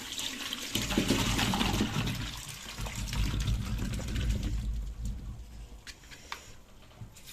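Soaking water for walnut jam is poured out on the fourth day. The water gushes and splashes in a steady stream that thins and trails off into scattered drips.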